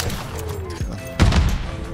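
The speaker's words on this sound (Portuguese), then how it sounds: "Essas explosões." Explosions and gunfire in the shooter game Call of Duty: a dull thump, then a heavy loud blast followed by rattling shots and debris, all close and prominent.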